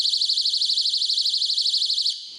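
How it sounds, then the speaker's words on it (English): A Brite Strike trip wire alarm shrills loudly and steadily with a rapid warbling pulse, sounding alone for about two seconds before cutting off abruptly. "gives off a pretty audible alarm. I think it's 135 decibels"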